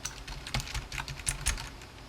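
Quick, soft keystrokes on a keyboard with Outemu Silent Peach switches patter in a steady run, muted and close, with no talking.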